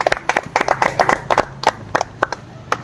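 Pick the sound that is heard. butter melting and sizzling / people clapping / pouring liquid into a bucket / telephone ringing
people clapping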